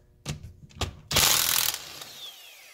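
A ratchet wrench loosens bolts on a Toyota 8-inch rear differential: a few sharp clicks, then a longer fast ratcheting run, close and clear with no talk.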